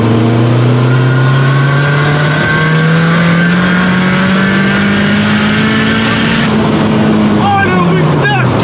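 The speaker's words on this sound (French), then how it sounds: "Oh le rupteur, ce qu'il fait, mon gars!" A car engine tuned with a MaxxECU revs up steadily under load and then stutters against the rev limiter near the end. It is loud and close, with no talk over it.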